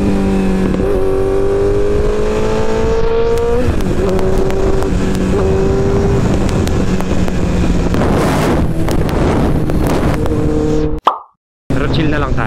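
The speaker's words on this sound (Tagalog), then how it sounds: "Aggressive yung motor kapag naka full power." A Kawasaki ZX14R motorcycle engine pulling hard at full power while riding, its pitch climbing and dropping through the gears under steady wind rush, with someone talking over it throughout before a brief cutout near the end.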